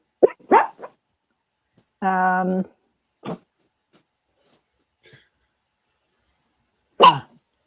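A single short dog bark sounds at mid distance in an otherwise quiet room, with a few faint scattered noises around it.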